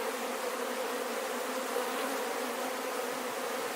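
Honey bees drone steadily at an open beehive as its top is put back on, a dense, continuous buzz that holds at an even level throughout with no voices.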